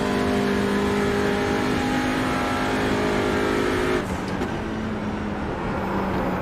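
A TCR race car engine on a VLN daytime lap revs hard toward the redline, a loud, steady, high whine close up that drops sharply as it shifts or lifts near the end.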